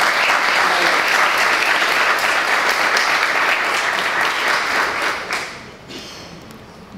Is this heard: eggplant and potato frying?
no